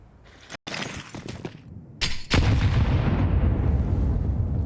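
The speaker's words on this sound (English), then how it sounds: "You hear 2 simultaneous HE explosions" Two HE grenade explosions in the Counter-Strike competitive match, sharp blasts cutting in with crackling debris, then a loud sustained rumble that stays heavy to the end, no voices.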